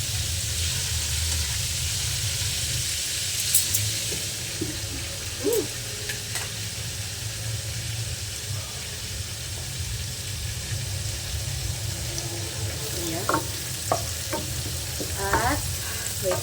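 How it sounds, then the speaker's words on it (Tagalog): Fried chicken sizzles and crackles steadily in a hot pan, with occasional sharper pops and clinks of a utensil stirring, no talking. "pasensya na maingay yung ating export pan at ang ating fried chicken"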